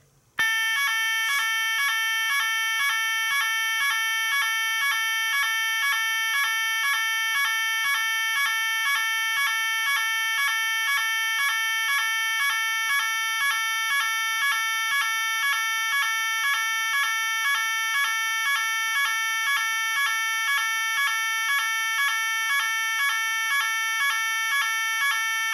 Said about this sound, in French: Elle sonne vachement bien, c'est vraiment une très bonne sirène.